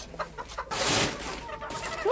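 Backyard hens clucking nearby, a few soft clucks followed by a denser burst of fowl chatter, moderately loud and alone without talk.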